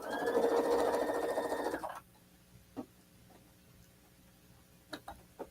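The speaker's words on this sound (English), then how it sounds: "I'm sewing 1/4 inch away from that center line." A sewing machine runs loud and close for about two seconds, stitching a quilting seam a quarter inch from a center line, then stops, followed by a few scattered clicks and taps.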